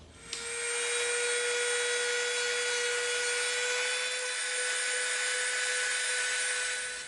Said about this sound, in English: we're going to Dremel this and clean it up